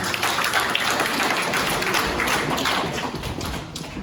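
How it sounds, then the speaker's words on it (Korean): A congregation at a student church worship service claps for a prize winner, producing a dense, close burst of hands that holds steady for a few seconds before thinning slightly at the end. "박수 한번 내주세요"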